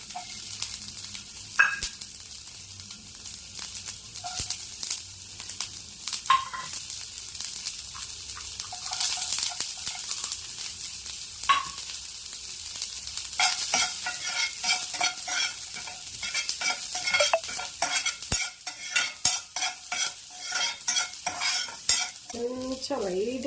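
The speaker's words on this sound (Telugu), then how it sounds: "కొంచెం ఆయిల్ వేసేసుకుందాం. ఉల్లిపాయ ముక్కలు" Onion pieces fry and get stirred in hot oil for egg fried rice, a steady sizzle broken by scraping spoon strokes against the pan, close and continuous with no talking.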